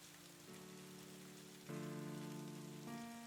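Soft, steady rain falling throughout, a faint hiss of drops underneath sustained, gently shifting musical tones, with no voices.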